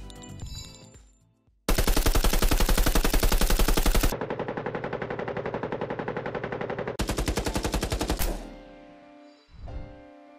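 Rapid automatic gunfire from an unreleased Fortnite weapon rattles in long, dense bursts, loud and close, with brief pauses between strings of shots in the video game.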